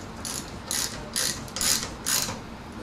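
A ratchet socket wrench with a 17 mm socket tightens the inner cap of a KYB fork held in a vise, giving four or five short, crisp bursts of ratcheting clicks at close range.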